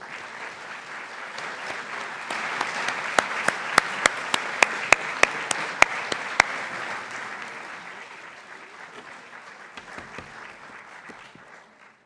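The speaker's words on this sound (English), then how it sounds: "big round of applause" Audience applause rolls through a nursing white coat ceremony, steady clapping joined by a run of sharp, louder individual claps in the middle before the applause tapers off near the end.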